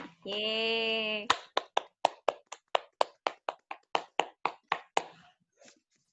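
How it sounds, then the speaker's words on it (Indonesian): A small online class audience claps in a rhythm of distinct, evenly spaced single claps after a brief tonal chime opens the sound, close and clear, with no talk. "Tepuk tangan untuk Kak Alia."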